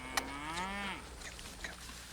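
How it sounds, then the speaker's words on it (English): Cattle on a farm mooing, one long rising and falling moo close by, followed by quieter low lows in the background. "For those of you that might have grown up in the city, these are cattle."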